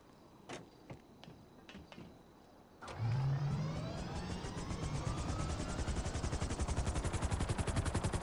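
In GTA 5 Online, a car-mounted minigun gives a few sparse clicks, then whirs up into a rapid, steady stream of machine-gun fire that keeps going and grows slightly stronger.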